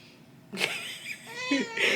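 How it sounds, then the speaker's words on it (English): A pet cat meows several times indoors, close and fairly clear, with talkative, drawn-out calls spaced across a couple of seconds and no talk over them. "You may hear the cat. She's very talkative today"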